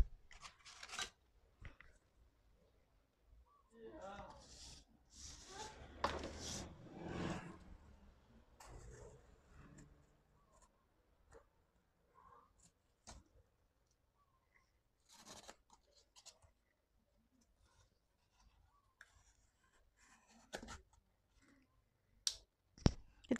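A Victorinox Swiss Compact pocket knife cuts through thick cardboard, giving scattered crunchy tearing and clicking bursts, denser near the start and sparse sharp snaps later, fairly quiet and close with no talk.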